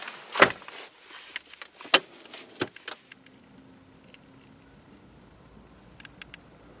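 Someone climbs into a 2018 Subaru WRX Premium with a manual transmission, making a few sharp door and cabin thumps and clicks up close, then a quiet interior with faint ticks.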